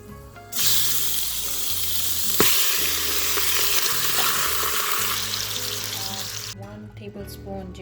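Whole spices, cloves, cinnamon, bay leaves, peppercorns and cardamom, hit a third cup of hot ghee in an Instant Pot and sizzle loudly and steadily, with a sharp clank partway through, then the frying cuts off near the end.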